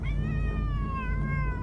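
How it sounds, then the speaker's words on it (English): A domestic cat lets out one long, wavering meow close by, with a steady background hum beneath it. "So if you hear any meowing or anything like that, she's why."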